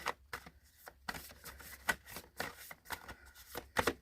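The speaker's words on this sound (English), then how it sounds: "So I'm going to shuffle these cards" A deck of cards being shuffled by hand during a tarot-style card reading, giving repeated bursts of riffling and flicking in an uneven rhythm, close and clear with no talking.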